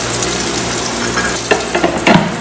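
Garlic sizzles and crackles steadily in hot oil in a pan for sambal bawang, with a few sharper pops and stirring bursts toward the end; no one speaks.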